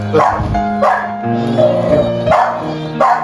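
Dogs bark loudly nearby, about five or six sharp, evenly spaced barks, with some whining between them.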